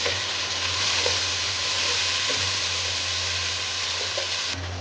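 Chopped tomatoes fry with garlic ginger paste for a chicken tikka biryani, giving a steady, close hiss and sizzle with a faint low hum underneath throughout.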